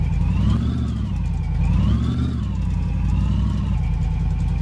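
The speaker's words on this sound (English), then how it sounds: "now we don't have the exhausts on, so this thing is going to be super loud" A car's engine runs with no exhausts fitted in the My Garage salvage-rebuild game. It is loud and continuous, and its revs rise and fall in slow waves throughout.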